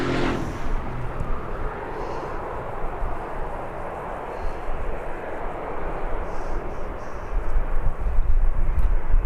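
An airplane departing Birmingham Airport, a broad roaring engine rumble heard from outside that holds steady and swells louder toward the end.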